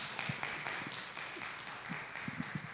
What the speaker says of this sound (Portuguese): vou aproveitar essa salva de palmas